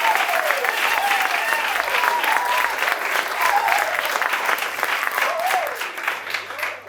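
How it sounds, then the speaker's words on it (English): Theatre audience applauding the stage door staff at a new musical theatre showcase, a sustained wash of dense clapping and cheers, with a few whoops rising over the steady crowd noise. "can we give a massive round of applause for the staff here at the stage door?"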